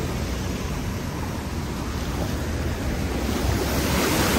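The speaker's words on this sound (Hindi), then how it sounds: "ये बड़ा तेज पानी है" A fast-flowing mountain river in northern Pakistan rushes past as a loud, continuous broadband roar, close by and steady, with some wind buffeting the microphone and no voices.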